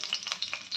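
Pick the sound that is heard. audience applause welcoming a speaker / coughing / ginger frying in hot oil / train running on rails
ginger frying in hot oil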